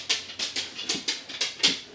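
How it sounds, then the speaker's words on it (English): A dog pants rapidly after coming down the stairs, a close series of about eight quick breathy huffs in an even rhythm. "Dogs down the stairs."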